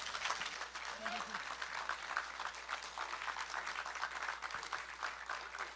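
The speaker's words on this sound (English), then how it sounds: "Professor Cudjoe, can we give him a standing ovation, round of applause?" Audience at an opposition party anti-crime town hall meeting applauding in a standing ovation, with steady distant clapping under the hum of the hall and some voices.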